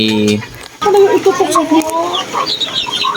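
Chickens cluck and squawk close by in short bursts, with a brief tonal call at the start and faint voices mixed in.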